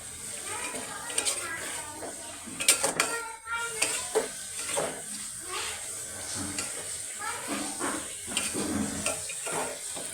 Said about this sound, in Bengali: জলপাইগুলো সিদ্ধর জন্য আমি একটু উল্টিয়ে দিই, না দিলে জলপাইগুলো আমার সিদ্ধ হবে না।